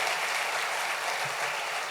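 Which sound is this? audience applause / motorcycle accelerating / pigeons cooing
audience applause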